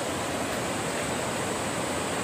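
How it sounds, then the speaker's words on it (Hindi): Tirathgarh waterfall in Bastar swollen by monsoon rain, a loud, steady roar of falling water close by, broadband and unbroken with no voices over it. "यार बहुत खूबसूरत लग रहा है यार यहाँ का वाटरफॉल"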